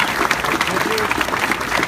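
Warm audience applause at an outdoor stadium plaza dedication ceremony, moderate and continuous, with a voice talking over the clapping.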